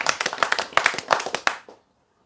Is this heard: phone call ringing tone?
no